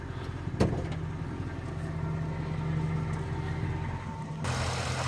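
A big-block V8 in an '04 Mercury Marauder idles with a steady low rumble close by, with a brief clunk near the start and a shift in tone toward the end.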